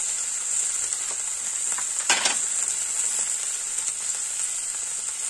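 Chilli, capsicum and tomato fry in a pan for chilli momos, giving a steady, close sizzling hiss with one brief louder burst partway through.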